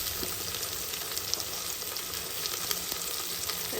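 Tomatoes and onion fry in a pan with a steady, close, crackling sizzle that continues evenly throughout, with no voices over it.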